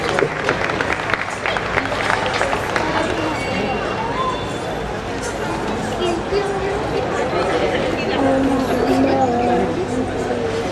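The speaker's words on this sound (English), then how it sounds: "Big thanks to all and claps for these guys." An audience claps after a children's play, a dense patter of hands that rises and falls with crowd chatter and voices talking over it.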